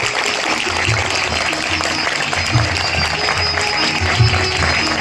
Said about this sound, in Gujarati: આપણે સૌ જોરદાર તાળીઓથી આપણા હૃદયના ભાવો વ્યક્ત કરીશું